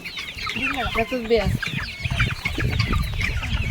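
Desi free-range chickens cluck and squawk in a pomegranate orchard, several birds close by, with brief rising calls and scattered clucks.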